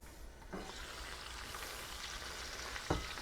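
Chicharrones fry in a pan with a dense, continuous bubbling sizzle, fairly faint and steady, with a couple of brief clunks from the pan or utensil.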